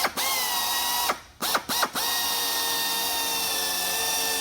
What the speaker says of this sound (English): I'll be moving the drill quite a bit